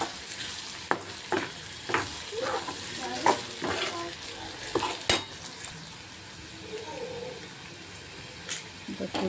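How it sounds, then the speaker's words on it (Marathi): Onion and asafoetida sauté in hot oil in a pan, a soft steady sizzle broken by scraping stirs and light clinks of a spoon, close up. "हिंग सुद्धा असं छान परतवून घ्यायचं आहे"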